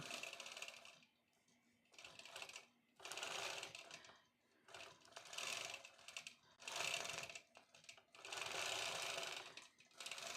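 A sewing machine stitches in bursts during custom quilting, its fast mechanical whirring starting and stopping several times with short quiet pauses between runs.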